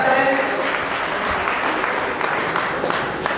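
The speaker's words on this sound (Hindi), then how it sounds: "जोरदार तालियों से हमारे अतिथि का पुनः एक बार स्वागत करें" An audience welcomes a guest at a Congress camp event with a steady, continuous spatter of applause, with faint voices murmuring underneath.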